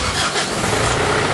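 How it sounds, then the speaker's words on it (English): A 2003 Mitsubishi Storm with a 2.5-litre diesel engine cranks and catches, a loud, close, rough broadband rumble that continues without pause through the short moment. "Start the engine. This storm car."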